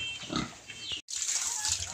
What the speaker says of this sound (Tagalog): baboy na bagong panganak